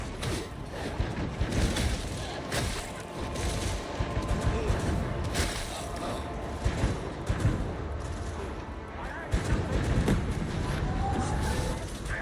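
Shotgun blasts and heavy gunfire from the video game Warhammer 40,000: Darktide, dense and continuous with repeated loud bursts over a busy battle din, with voices in the mix.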